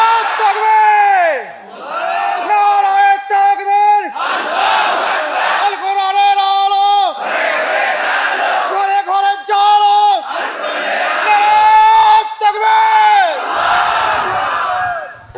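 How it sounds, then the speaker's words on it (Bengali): A large crowd chants takbir, Allahu Akbar, in loud repeated unison calls, each swell rising and falling in a steady rhythm, close and powerful with a roaring, echoing mass of voices. "একটু জোরে তাকবীর বলেন তো"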